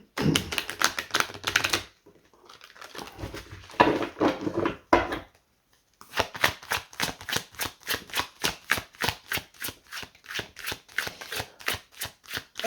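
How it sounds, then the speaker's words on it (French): Oracle cards are shuffled by hand for a cross spread, giving bursts of rapid, crisp riffling clicks, a short pause, then a long even run of rhythmic card snaps close to the listener with no talking. "on bat les cartes, hein, c'est très important"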